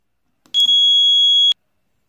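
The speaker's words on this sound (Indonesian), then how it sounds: "ketika tombol A pada remote ditekan, maka buzzer berbunyi sesaat" A single high-pitched electronic beep from a motorbike buzzer triggered by a remote sounds for about one second, steady and piercing, then stops abruptly, leaving silence.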